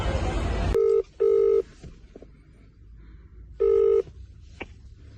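A phone's keypad sends out three long, steady dialing tones separated by pauses, following a brief rush of noise, with small clicks in between as a number is called.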